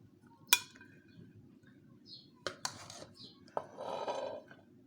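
Cooked pea pulao served from the pot onto a dish, with a spoon clinking sharply against metal and crockery several times, followed by a soft rustle of rice being scooped, in a quiet kitchen.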